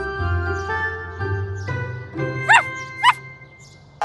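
Cartoon puppy sniffing around shipping containers at a train yard, with soft tinkling and whimpering tones followed by two sharp, close yips a half-second apart, no talking over them.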